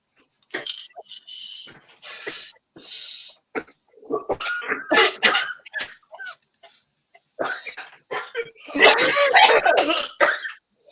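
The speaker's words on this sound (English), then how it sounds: "This made me cough." Several coughs and throat-clearing bursts come in scattered clusters, fairly close, with short pauses between them and no clear speech.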